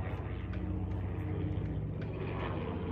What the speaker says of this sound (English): helicopters are loud. I feel like helicopters are louder than planes.